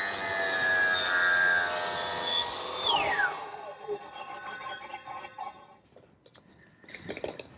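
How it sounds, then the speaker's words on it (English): A hand saw cuts an outside miter through a wooden fireplace mantle piece set upside down in a miter box, giving steady close rubbing strokes that taper off toward the end, with a few light knocks after. "Now I set the piece in the miter box, upside down, and I can make that outside miter cut."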